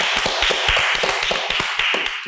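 Audience applause for a kidney and liver institute on a Pakistani talk show, a dense run of close, overlapping hand claps held at a steady level for about two seconds, with no talking.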